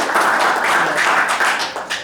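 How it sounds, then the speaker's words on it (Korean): An indoor audience at a Daegu park golf leaders' club launch ceremony claps together, a loud, close burst of brisk hand claps that tapers off after about two seconds. "박수 한번 부탁드릴까요?"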